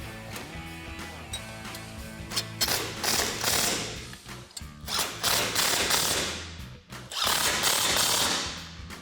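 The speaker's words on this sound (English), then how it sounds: "then we'll grab an 18mm socket and wrench to tighten these down" An 18mm socket and wrench tightening bumper bracket bolts on a 2019-2023 RAM 1500, producing close, repeated ratcheting and clicking bursts with short pauses between strokes.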